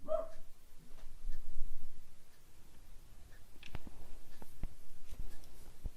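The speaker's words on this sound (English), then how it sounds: "Which obviously does not matter because he's barking again." A dog barks a few times at moderate distance, short sharp yaps scattered over background room noise.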